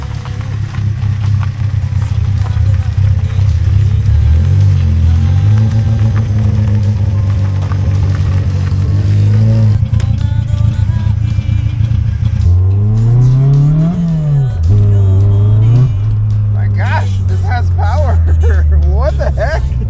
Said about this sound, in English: you guys can hear what a carbureted 4AG should really sound like